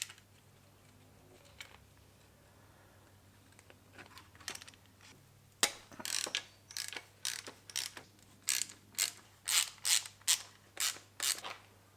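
A ratchet loosening valve cover bolts on a BMW S54 engine: after a few scattered clicks, a quiet workshop hum gives way to a run of rhythmic ratcheting bursts, close and crisp.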